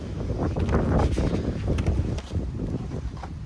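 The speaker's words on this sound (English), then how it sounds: "Wow, the wind's blowing." Strong outdoor wind buffeting the microphone, loud irregular rumbling gusts that rise and ease across the whole stretch, with no talk.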